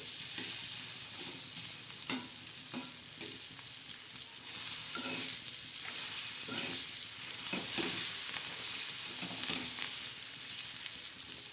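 Whole green chillies frying in hot oil in a pan, a steady close sizzle with repeated scraping strokes as they are stirred and turned, continuous with no voices.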